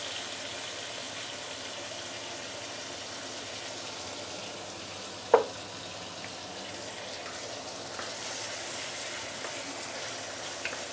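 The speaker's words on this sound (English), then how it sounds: "the oil immediately turn orangey because we are sauteing the tomato sauce" Tomato sauce sautéing in oil in a pan for sweet and sour pomfret, a faint steady sizzle throughout with one sharp utensil clink midway.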